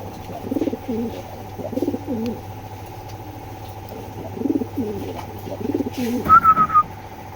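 A pair of big racer pigeons cooing in soft repeated bursts, near and fairly quiet, with a steady low hum underneath and a brief whistle-like chirp near the end.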